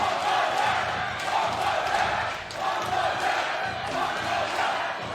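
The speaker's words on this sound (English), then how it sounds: "The Mongolian fans are getting loud." A loud crowd roars and cheers in a big arena at a women's 3x3 basketball game between Japan and Mongolia, a continuous wash of voices swelling and dipping.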